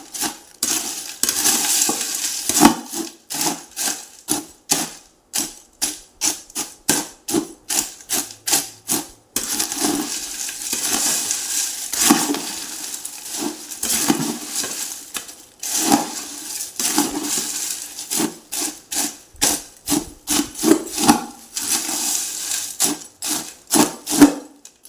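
Ingredients for a fasting snack being mixed and crumbled by hand, a steady run of rhythmic rubbing and crunching strokes, close and repeated over and over without talk.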